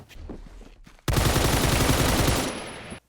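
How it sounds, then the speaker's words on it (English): A light machine gun fires in the video game Phantom Forces, one loud sustained burst of rapid full-auto shots lasting about two seconds after a quieter lead-in. "this is one of my favorite light machine guns to use"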